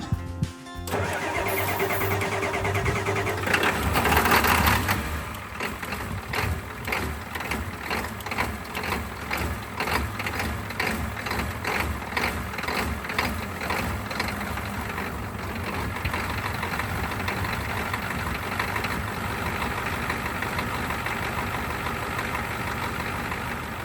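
A Ford F350 dually diesel engine cranks briefly, catches and starts, then settles into a steady rhythmic idle close by, with no one talking.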